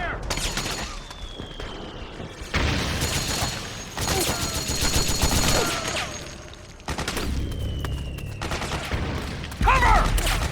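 Suppressing gunfire in Metal Gear Solid 4 on PS3, sustained bursts of rapid shots and explosive booms in loud layered waves, with brief shouted voices mixed in.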